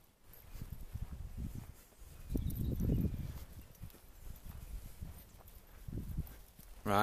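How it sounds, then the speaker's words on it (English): Horse walking with hooves clip-clopping nearby in a loose, uneven rhythm, the steps growing louder around the middle, with light background noise. "Got a little horsey come to say hello"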